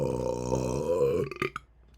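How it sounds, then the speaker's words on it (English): A single long, loud, tonal burp from someone recording a podcast, rumbling steadily for over a second before breaking off into a couple of short clicks and quiet. "Excuse my burp."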